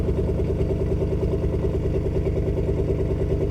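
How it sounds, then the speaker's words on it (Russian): A biturbo AMG V8 engine in a UAZ idles with a steady, deep throbbing rumble, close and constant throughout. "Звук теперь чисто AMG, потому что битурбовая V8."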